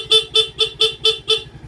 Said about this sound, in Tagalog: Lumakas yung busina.